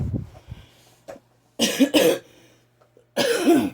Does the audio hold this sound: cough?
yes